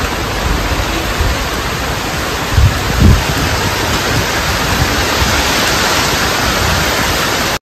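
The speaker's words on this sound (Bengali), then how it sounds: "ঝমঝমিয়ে বৃষ্টি।" Heavy monsoon rain pours steadily on a rooftop in the evening, a dense, even roar that holds throughout with a couple of slightly louder splashes, and no voices.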